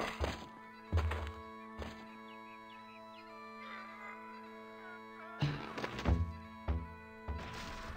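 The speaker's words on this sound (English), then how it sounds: "Not until you can best me in the caber toss" A caber toss in The Curse of Monkey Island plays as a run of heavy wooden thunks, several clustered at the start and end, over a quiet musical background.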